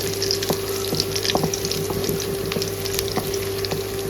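Onion frying in a pan to a brown colour, a steady broadband sizzle with scattered pops and spatters, close and continuous, over a low constant hum.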